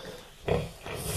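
A Pietrain-Landrace sow and her newborn piglets at farrowing give soft, close grunts in two short bursts over a quiet pen background.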